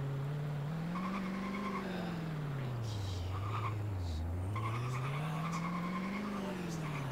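A car in the Roblox racing game Horizon races with an engine tone that rises and falls steadily and tires squealing through corners, loud and continuous, with a few faint voice fragments.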